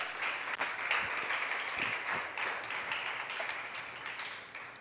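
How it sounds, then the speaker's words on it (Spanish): Church congregation clapping in praise during a Spanish-language sermon, a soft, steady patter of many hands at moderate distance, with no talking. "Dale un aplauso al Señor"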